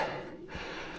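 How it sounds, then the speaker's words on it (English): Heavy breathing, puffing and panting outdoors beside a fenland drain, a short burst of rough, breathy exhalations close to the microphone with wind noise. "Puffing and panting."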